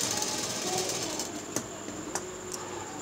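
A sewing machine runs steadily while stitching a cord for a blouse tassel, giving a continuous mechanical whir broken by a few sharp clicks and taps near the end.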